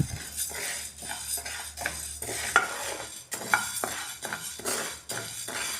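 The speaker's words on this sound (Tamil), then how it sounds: "இது நல்லா பொன்னிறமாக வறுத்துக்கிடணும் மீடியம் ஃப்ளேமில் வச்சு வறுத்துக்கிடணும்" Urad dal dry-roasts in a pan over medium flame, with repeated rhythmic scraping strokes of a spoon and rattling lentils, a few metallic clinks, close-up with no speech.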